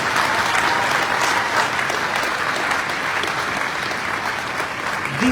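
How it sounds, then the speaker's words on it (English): An audience at a university convocation and foundation day ceremony applauds in a dense, sustained burst of clapping, loud and even, fading slightly toward the end. "I would like to request that you all join me to applaud the late Professor Agbola"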